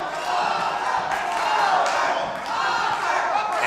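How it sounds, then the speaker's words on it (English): Arena crowd at a boxing bout, the eighth and final round of Roberto Meza against Angel Viedas, shouting and chanting the fighter's name in a steady, loud roar that swells and dips without a break. "And you hear the crowd shouting"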